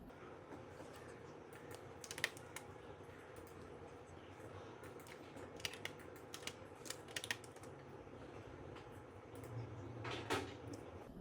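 Computer keyboard keys pressed while working in Illustrator, using Alt and Ctrl+D shortcuts to duplicate: a few sparse, quiet clicks and taps over a low room hum, no talking.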